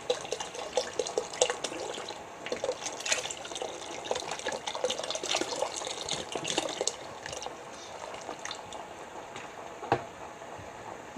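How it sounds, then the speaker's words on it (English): Mushroom broth is poured into a pot of chili, a steady trickling, splashing liquid sound running throughout at a moderate level with no talk. "So I'm going to add the mushroom broth."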